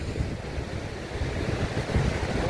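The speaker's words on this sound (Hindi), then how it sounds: "काफ़ी हेवी वेव है यहाँ पे।" Heavy sea waves at high tide on the coast by the Dwarkadhish temple ghat in Dwarka, a continuous low rumbling wash of surf mixed with wind buffeting the microphone, moderately loud and without voices.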